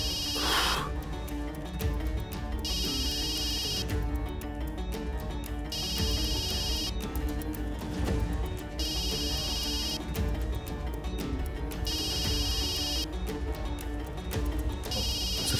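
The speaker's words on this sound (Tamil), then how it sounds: "உங்க ஃபோன் தான் சார் அடிக்குது." A mobile phone ringtone rings in a hospital ward, sounding in loud repeated bursts about every three seconds over a steady musical background.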